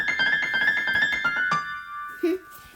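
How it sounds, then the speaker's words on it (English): An iPhone ringtone, a bright piano melody of quick repeated notes that plays clearly and alone, ending after about one and a half seconds, followed by a brief low tone. "Sounds like a cute little piano just being played."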